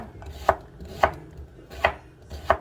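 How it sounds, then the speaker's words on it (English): A knife slices the ends of vegetables on a chopping board in four distinct, evenly spaced thuds, close and clear with no voices. "And the ends, we're going to slice them up like that."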